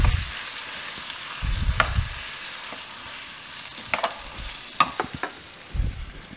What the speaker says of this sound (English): now we're going to add in our diced tomatoes.